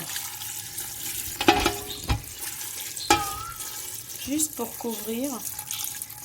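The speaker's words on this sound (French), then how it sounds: "Je vais verser de l'eau" Water poured from a tap into a pot of red beans, splashing and trickling with clanks of the pot, while a voice speaks over it.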